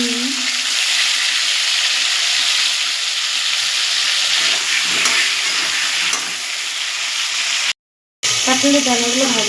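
Small pieces of boiled potato frying in a pan for an egg curry, a loud, steady crackling sizzle that briefly cuts out before a voice starts talking over the frying.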